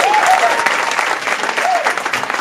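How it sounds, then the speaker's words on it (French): A theatre audience claps loudly and continuously in a close, busy burst of applause, with a few brief whistles rising above it. "On applaudit pour ça, s'il vous plaît."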